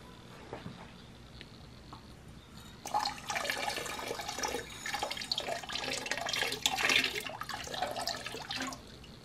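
Water drips from a piece of steel wool into a bucket. Faint, irregular trickling and splashing grows busier partway through, with no talk.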